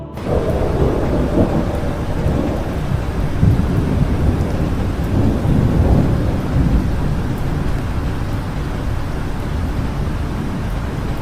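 A thunderstorm with steady, heavy rain pours continuously while deep rumbles of thunder roll through, loud and close, with no voices.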